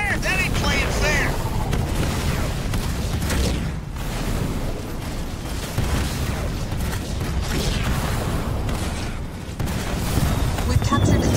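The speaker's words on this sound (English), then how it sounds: "Artillery fire? That ain't playing fair!" Artillery shelling in the Halo Wars 2 strategy game, a dense, continuous roar of booms and low rumbling throughout, loud and close, with game voice lines heard over the barrage.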